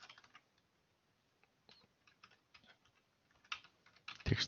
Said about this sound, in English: So if we will type a Python count words dot py